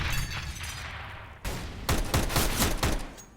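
Tech-9 pistol gunfire in a CS:GO professional match on the Train map, with a loud continuous burst fading out, then a cut to a rapid string of sharp close pistol shots.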